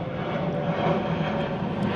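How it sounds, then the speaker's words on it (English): A fixed-wing airplane passes overhead above Brisbane, its engine making a steady broad roar that holds at a moderate level throughout with no talk. "Another plane overhead."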